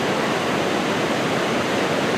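Rushing water of Hurricane Creek in the Eagle Cap wilderness mountains, a steady, loud, broadband roar of flowing stream water filling the whole clip without pause.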